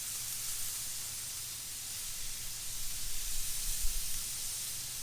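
A steak sears in a hot pan with a steady, loud hiss and sizzle that runs throughout, swelling slightly near the end, with no talk over it.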